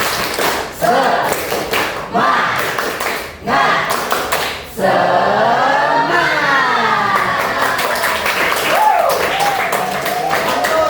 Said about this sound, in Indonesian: Oke, tepuk tangan buat Dasmi